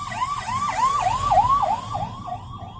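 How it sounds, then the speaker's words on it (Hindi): An ambulance siren wails in a repeating rising-falling pattern, loud and near over a low rumble of road traffic, with no speech. "अब देखो एम्बुलेंस देख ली ना"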